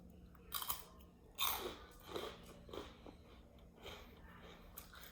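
Close, crisp crunching and chewing of a Korean sesame-seed snack in a few bursts, loudest early and then tapering off, with no talking.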